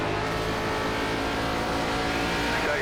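NASCAR Gen 4 race car engines in the iRacing simulator on a short track at IRP: a loud, sustained roar of several engines running together at high revs, close and continuous, with a rising whine near the end.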